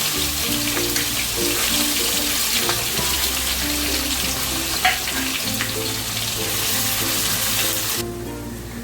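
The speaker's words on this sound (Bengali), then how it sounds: "একই সাথে আমি পেঁয়াজগুলোকে দিয়ে দিচ্ছি পেঁয়াজগুলোকে ভেজে নেবো" Chopped onions frying in oil for egg biryani, a dense continuous sizzle held close and loud for several seconds under a low steady hum, cutting off sharply near the end with no talk.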